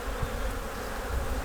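Honey bees buzzing at a Kentucky beehive being prepped for winter, a dense continuous close hum of many bees with no pauses.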